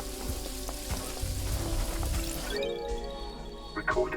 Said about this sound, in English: Another rain again. What is it with the rain?